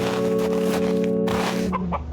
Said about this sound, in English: The hen seems content.